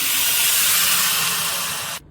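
Heated water poured into a pan of washed dal and rice with cabbage and mustard-cumin tempering for khichdi, giving a loud, steady steam hiss that runs unbroken for about two seconds, then cuts off abruptly.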